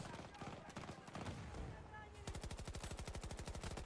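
Automatic gunfire in Battlefield 2042 multiplayer, an irregular mix of shots that turns into a steady, rapid burst of loud, evenly spaced rounds in the second half, with game noise behind.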